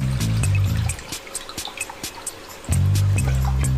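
Cold water trickles and drips into a bowl in a home kitchen: faint, uneven splashes and drips heard briefly on their own between louder bursts of background music.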